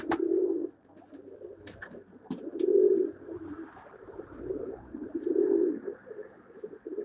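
Pigeons in a loft coo in repeated, low rolling phrases at a steady pace. The birds are close and moderately loud, with soft chirps and small knocks in between and no talking.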